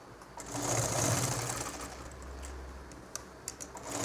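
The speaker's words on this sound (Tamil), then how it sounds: "இப்போ இன்னொரு தையல் போடணும்." Sewing machine stitching a seam on a nightdress, its motor whirring steadily at low volume, then giving way to a few sharp clicks and taps near the end, with no voices.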